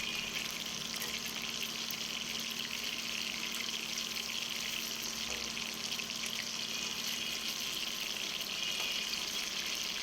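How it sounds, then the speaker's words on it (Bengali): Hilsa fish pieces fry in hot oil in a pan, a continuous bright sizzle and crackle holding steady from start to finish, close and moderately loud. "তো মাছগুলো আমি ভালো করে ভেজে নিচ্ছি।"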